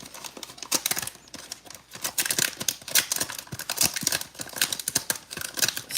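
Tissue paper crinkles and rustles as it is unwrapped from a wooden mini dollhouse puzzle kit, a close, busy run of sharp crackles and soft scrapes with no talk.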